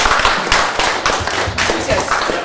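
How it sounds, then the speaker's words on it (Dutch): Warm audience applause in a Dutch gathering, a dense steady wash of many hands clapping at close range with a few sharper claps standing out, continuing without pause. "Een warm applaus voor Jan Willem."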